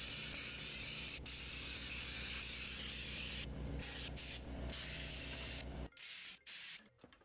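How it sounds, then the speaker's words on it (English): Fluid Film undercoating hisses steadily from a spray can under a truck's frame near the rear axle, close and continuous, cutting off in several short bursts toward the end. "Now I'm spraying toward the rear of the vehicle, just in front of the rear axle."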